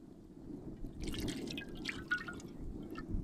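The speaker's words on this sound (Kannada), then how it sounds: "ಅಡಿಗೆ ಎಣ್ಣೆ" Cooking oil poured into a pan, a soft trickling and dripping splash over a low background hum, lasting about two seconds near the middle and fading out.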